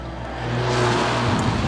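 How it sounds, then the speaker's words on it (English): A 2015 Mercedes A45 AMG five-door hatchback revs hard, its engine rising to a loud, steady, throaty drone that holds close and dominant with no voices. "And you could never accuse a car that sounds like this of being sensible."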